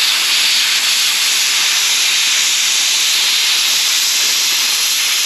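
An Arccaptain CUT55 Prolux pilot arc plasma cutter slices through 18 gauge sheet metal with a loud, steady, unbroken hiss that holds evenly from start to finish.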